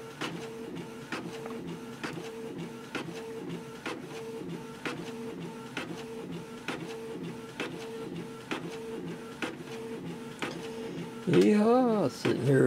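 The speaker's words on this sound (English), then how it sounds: "sitting here waiting on the printer" A photo printer printing out a design in a studio office, a steady mechanical whirr with regular clicks and motor tones, ending in a louder rising-falling whine as the carriage moves.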